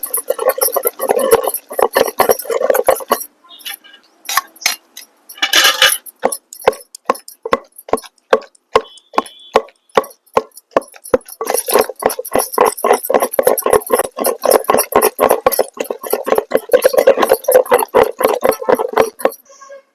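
Tamarind and tomatoes being stirred in a pan for a cluster bean chutney give a rhythmic patter of clinks and scrapes. The bursts are dense, then thin to spaced ticks, then turn busy again.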